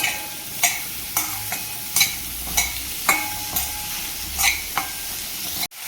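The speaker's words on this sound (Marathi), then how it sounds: "आता यामध्ये हे कट केलेले मशरूम आपल्याला घालून घ्यायचे आहेत आता हे सगळं आपल्याला छान असं परतवून घ्यायचं" Chopped mushrooms fry in a pan for soup, a low steady sizzle broken by sharp, regular spatula scrapes and taps roughly every half second, close and clear with no talking.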